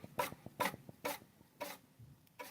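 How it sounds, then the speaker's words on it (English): Tape in a mechanism scraping as it is pushed, a series of short rasping rubbing strokes repeating about every half second, close and fairly quiet with no talking. "That scraping is the issue."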